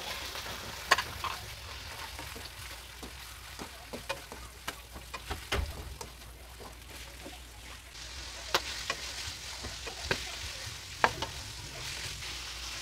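Chicken liver fries in a pan for pancit canton, a soft continuous sizzle broken by sharp utensil taps and stirring clicks, close but fairly quiet.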